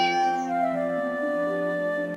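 An American Shorthair cat in Harvest Moon One World gives a single drawn-out, tonal meow, clear and close with no other sound.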